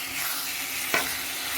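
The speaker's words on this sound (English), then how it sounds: "we've got the chicken sizzling away" Steady close sizzle of chicken frying in a pan for curry chicken wraps, a constant hiss with one brief scrape of stirring near the end.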